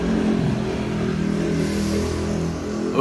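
Car engine with a noisy exhaust while driving in West Sumatra, Indonesia, a loud steady drone from inside the car that rises slightly as it revs near the end.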